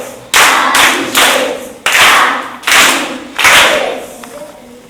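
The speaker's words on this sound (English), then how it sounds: "Give her a clap." Children clapping together in a devotional group, several short bursts of applause with brief gaps between them, close and fairly loud, with no talk over them.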